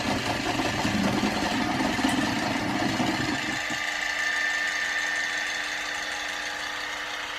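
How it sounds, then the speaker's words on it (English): A mixer whirs steadily through gluten-free, lactose-free, yeast-free white cupcake batter. The motor drone runs loud and continuous, its tone shifting and settling lower about halfway through. "now I'm going to mix one final time for good luck"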